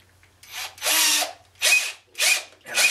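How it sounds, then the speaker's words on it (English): An electric drill whirs in four short bursts separated by brief pauses, close and fairly loud, with no voices. "then I take out the drill bit and then I put this into the drill"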